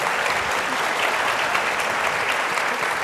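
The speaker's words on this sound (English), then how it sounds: "Please give them a round of applause" A dense, even burst of applause from an audience thanking a tech panel, loud and continuous with no voices standing out.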